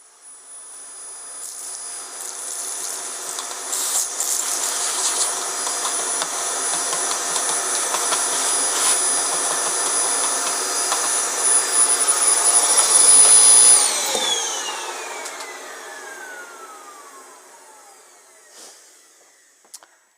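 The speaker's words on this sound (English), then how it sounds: "I'm just going to get a hoover and just clean out the bits that we can't easily get out" A vacuum cleaner hoovers stuck beans out of a jammed Rancilio coffee grinder, a loud, steady whine with a high tonal edge that runs alone for about fourteen seconds, then winds down with a falling pitch as the motor spins off.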